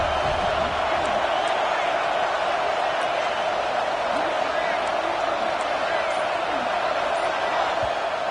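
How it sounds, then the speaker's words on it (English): Stadium crowd at a football game roaring in a steady, dense wash of distant cheering and noise, sustained without letup as the home fans urge their defense on at a red zone stand. "This crowd is trying to inspire this defense to make a big red zone stop."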